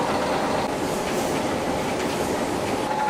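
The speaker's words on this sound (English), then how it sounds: "This is a real high-speed 3-ply mask machine" A high-speed 3-ply face mask machine runs in a factory with a dense, continuous mechanical clatter and rumble that stays loud and steady throughout, with no voices.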